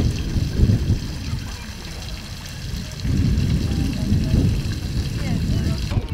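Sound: small garden fountain splashing

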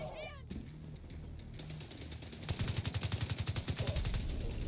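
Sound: gunfire in the video game The Division 2

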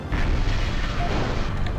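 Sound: missiles volleying in MechCommander video game

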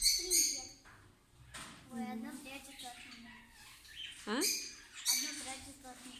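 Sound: pet parrots squawking

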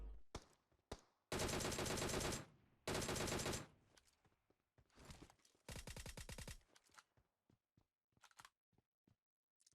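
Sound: gunfire in video game PUBG Mobile

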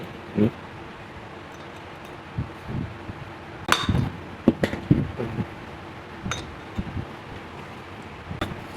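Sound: hammering a bearing into a wheel hub

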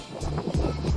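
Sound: wind blowing on microphone

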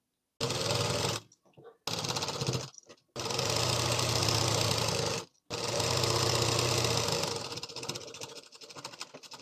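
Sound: sewing machine stitching a chudidhar side seam

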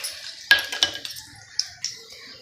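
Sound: handful of cashews dropped into frying pan

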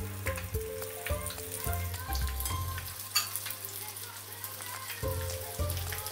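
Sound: tuna balls frying in hot sunflower oil

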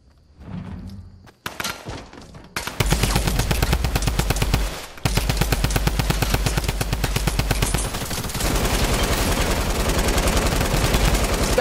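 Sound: drum gun firing in Fortnite video game

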